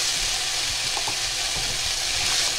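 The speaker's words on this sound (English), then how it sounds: "We're now ready to add the beans to this." Beans tipped into a hot pan of spaghetti squash filling give a steady, close hiss of frying, with a few soft stirring knocks, no talk.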